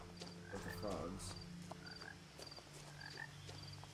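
Frogs croak in the woods in What Remains of Edith Finch, a faint, repeated chorus of short croaks scattered at irregular intervals over a quiet ambient drone.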